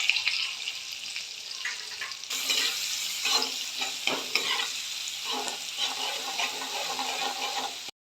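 Onion frying in a pan with ginger, chilli and curry leaves for finger millet upma, giving a dense close sizzle that jumps louder partway through and carries on with stirring scrapes before cutting off.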